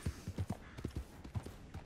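Horse hooves clopping in Red Dead Redemption 2, a quick, rhythmic run of muffled thuds close by, each beat distinct over quiet game background.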